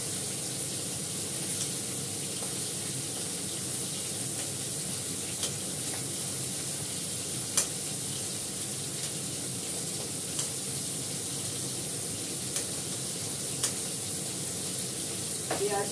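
Food sizzles steadily in a hot pan, a constant broadband hiss with a few faint clicks and stirring scrapes throughout, no talking.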